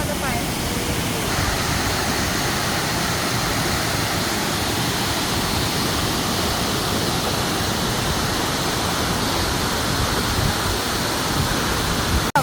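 Water at the Sarika waterfall rushes loudly and steadily throughout, a dense unbroken roar that fills the whole scene with no pauses.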